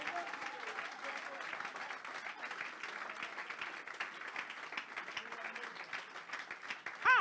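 Church congregation applauding: sustained, faint, even clapping from a crowd that carries on for several seconds, with a short louder sound at the end.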